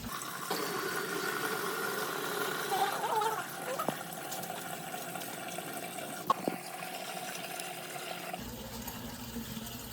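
Tap water pours from a gallon container into the plastic base of a punching bag stand, a steady, moderately loud filling rush for the whole stretch with a brief knock near the end.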